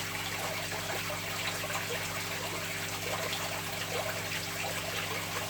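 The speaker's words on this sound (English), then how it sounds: "now we'll just release some of the water from the tank now back into the bowl" Aquarium water poured from a shrimp tank back into a bowl, a steady soft trickle and splash running continuously at moderate level with no talking.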